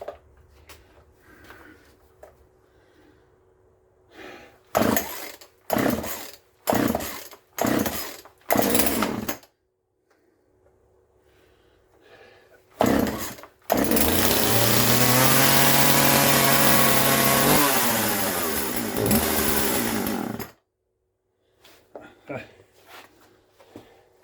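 A Husqvarna 141 chainsaw gets several short, loud pull-start bursts, then its engine catches and runs loudly for several seconds before cutting out, with brief talk before and after.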